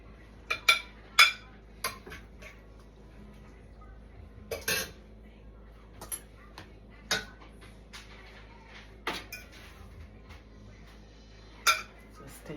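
Utensils clink and tap against dishes while serving a breakfast of okra, salt mackerel and boiled bananas, sparse sharp knocks and clinks scattered over a quiet room, with soft voices in the background.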